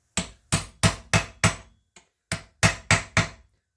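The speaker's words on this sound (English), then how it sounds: "just take a chisel and just" Hammer striking a chisel to bend a nut flange into its recess during an E21 manual transmission build, about ten sharp, ringing metallic blows in two evenly spaced bursts, close and alone.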